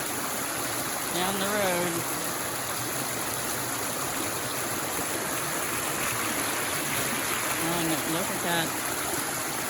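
A flooded creek rushes past in a steady, continuous wash of flowing water close by, with someone talking over it twice.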